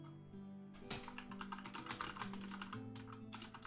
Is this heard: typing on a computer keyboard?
yes